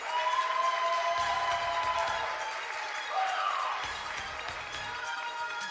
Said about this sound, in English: Come on, ladies and gentlemen, applause.